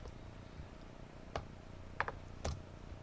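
Keys are typed on a computer keyboard in a few sparse, close clicks, spaced singly and in a quick pair, over a quiet room hum.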